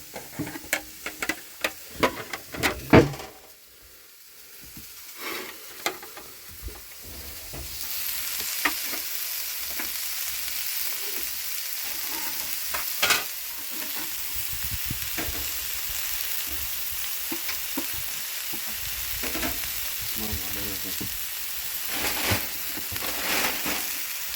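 Steak and onions fry in a pan in a shed, a steady close sizzle with scattered clicks and spatula taps, starting sparse and then settling into a continuous hiss for the rest of the time, with no voices.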